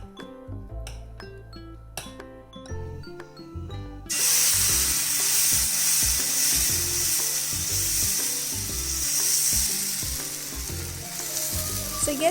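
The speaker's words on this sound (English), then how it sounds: "Just spread it like a dosa and add the filling and roast until done" Moong dal chilla batter sizzles steadily on a hot pan, the frying growing loud and constant after a few light clinks and taps at the start, with soft music underneath.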